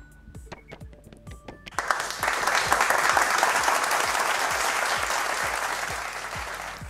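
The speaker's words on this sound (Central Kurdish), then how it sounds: "یەک چەپڵە بۆ ئەو بینەرانەمان کە وتیان لەکوێیە" A television quiz show audience breaks into loud, sustained applause after a short musical lead-in, with dense clapping holding steady to the end.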